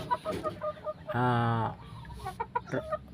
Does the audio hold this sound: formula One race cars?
no